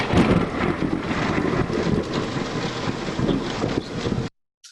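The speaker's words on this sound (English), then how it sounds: "we're going to replace it with a thunder noise" A thunder sound effect picked in animation software plays as a steady, loud, rolling rumble that lasts about four seconds and then stops abruptly into silence.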